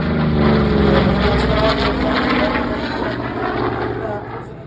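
An FG-1D Corsair propeller aircraft performs at the Wings over Wairarapa 2024 air show, its loud, rough engine drone passing close and slowly fading.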